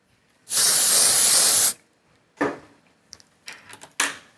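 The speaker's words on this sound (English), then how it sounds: "I've just spritzed a little bit onto my hair as well as onto the comb" ghd hair spray spritzed onto hair and a comb: one long steady hiss of about a second, followed by a shorter spray burst and several faint clicks and handling noises.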